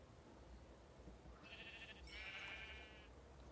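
Sheep bleating in a Minecraft-style video game, two wavering bleats heard close and clear over a steady low background hum, with no one talking.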